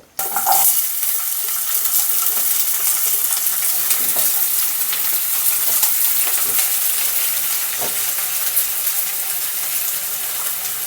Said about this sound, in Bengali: রসুন আর কাঁচা লঙ্কা এটা আমি ভালো করে তেলে ভেজে নেব